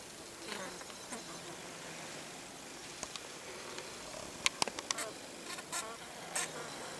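Faint buzzing of bees hums in a quiet outdoor space, with a few short sharp clicks and rustles scattered through.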